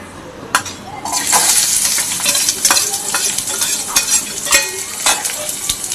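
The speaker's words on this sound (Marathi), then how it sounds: "कांदा आपला मस्त मऊसूत आपण करून घेऊया तेलामध्ये भाजून घेऊया" Onion hits hot oil and fries with a loud, close crackling sizzle, stirred with repeated scraping strokes against the pan that continue steadily.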